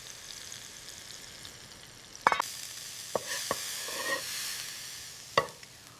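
Cheeseburger patties sear in a hot pan with a steady background sizzle, broken by several sharp scrapes and clicks of a spatula at irregular moments, all close by with no voices.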